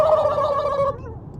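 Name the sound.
voice imitating a turkey gobble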